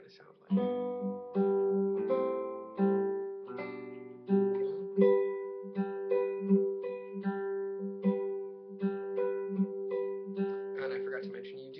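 Acoustic guitar plays a phrase of a song, plucked notes and repeated chords in a steady rhythm over a sustained low bass note, close and clear with no talking.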